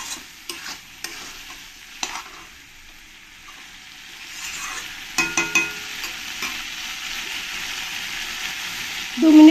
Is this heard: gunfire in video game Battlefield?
no